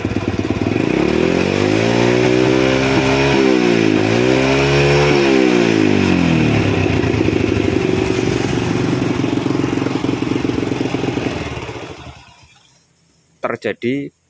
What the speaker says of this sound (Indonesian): Saya akan coba geber